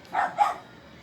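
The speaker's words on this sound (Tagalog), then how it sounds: "ang ingay ng aming aso" A dog gives a quick double bark, two short yaps close together, fairly near, then quiet.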